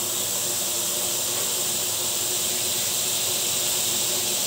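Plenty of garlic sautéing in margarine in a pan for buttered chicken, a loud, constant hissing sizzle held evenly throughout with no talk over it.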